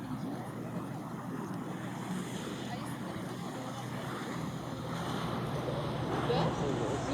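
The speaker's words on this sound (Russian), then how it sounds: "Такой моторчик какой-то стоит." A small motorboat engine runs steadily on the water by an embankment, a continuous low drone with wind and lapping waves throughout, loudness constant and swelling slightly near the end.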